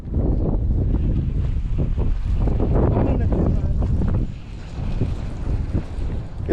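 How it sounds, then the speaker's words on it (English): Strong wind roars across a lake during winter bass fishing from a boat, loudly buffeting the microphone before easing briefly and gusting again, with muffled voices mixed in. "This wind is getting up out here."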